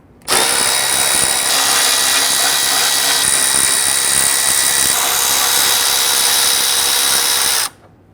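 A power tool loosens and removes T30 Torx bolts on the radiator crossmember of a 1999-2004 Jeep Grand Cherokee 4.7L V8. Its loud, close, continuous whir runs about seven seconds, then cuts off abruptly.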